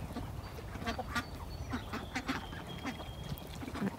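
Several ducks quacking in short, scattered calls amid a farmyard shared with chickens, moderately close over a steady low background hum.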